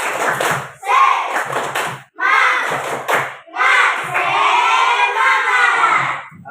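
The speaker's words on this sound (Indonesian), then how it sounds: "kita tepuk semangat dulu ya. Tepuk semangat." Schoolchildren in an Indonesian classroom perform a rhythmic spirit clap, loud bursts of clapping and shouted chanting in repeated phrases with brief pauses between them, close and lively.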